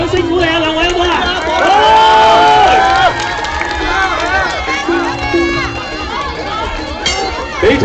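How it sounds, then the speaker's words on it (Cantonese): At a combat sports fight event, a crowd cheers loudly with whoops, shouts and excited voices rising over a steady roar, then settles into lively chatter. "啲掌聲鼓勵啊"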